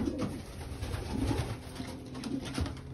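Racing pigeons coo steadily in a loft in Ponoka, Alberta, with soft, repeated throaty calls overlapping in a continuous murmur at close range and no talking.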